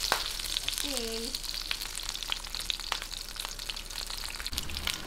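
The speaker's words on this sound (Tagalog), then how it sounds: "Okay, ngayon prituhin lang po natin tong ating pork belly." Pork belly frying in a pan, a steady close crackle and sizzle running throughout with scattered sharper pops and a brief tonal squeak early on.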